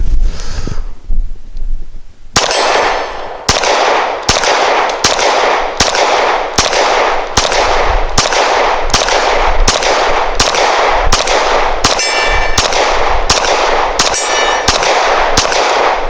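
An American Classic XB 9mm pistol firing at a steel target about 25 yards away: around fourteen sharp, loud shots in a steady rhythm, many followed by a ringing metallic clang from the steel, with no talking.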